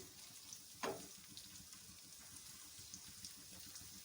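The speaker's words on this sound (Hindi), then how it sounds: "तो अभी हम इस प्याज को थोड़ा सा फ्राई करेंगे, बहुत ज़्यादा फ्राई नहीं करेंगे, शैलो फ्राई करेंगे" Finely chopped onion shallow-fries in oil for an okra masala, giving a soft, steady sizzle that is faint and even throughout, with no talking.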